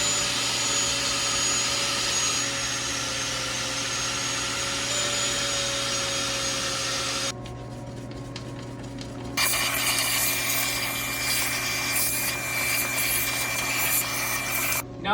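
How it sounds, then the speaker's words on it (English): A wire wheel scrubbing an aluminum intake manifold from a Ford Mustang engine, a continuous loud whirring and grinding rasp that drops briefly midway and then resumes, with no talk. "So let's get to wire wheeling."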